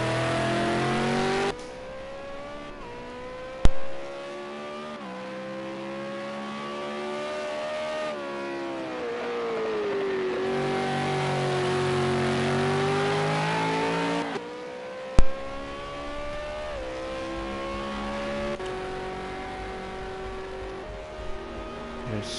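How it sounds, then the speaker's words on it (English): V8 Supercars race at Bathurst in the video game Project Cars 2, with a loud engine note climbing and falling through gear changes and a couple of sharp shift clicks, and no speech. "Frank Finch just holding on in 7th."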